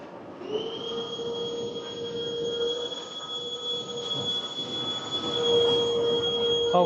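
A train pulls into a station platform at track 4, its wheels squealing with long, sustained high-pitched tones that swell louder toward the end.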